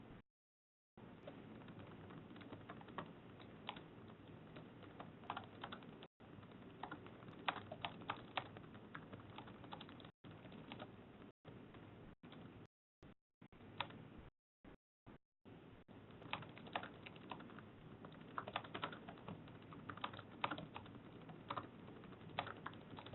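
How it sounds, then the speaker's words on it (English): Keys clatter on a computer keyboard in quick bursts of steady typing, faint and close, with brief silent gaps in between. "Sorry for the typing here."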